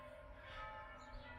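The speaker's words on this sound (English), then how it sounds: "that's the church next door ringing its bells" Church bells ring from a church beside a railway station in Rockbank, Victoria, Australia, a faint, distant sustained clang with lingering tones and no voices over it.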